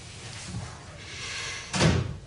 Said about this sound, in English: Make sure you close your door all the way.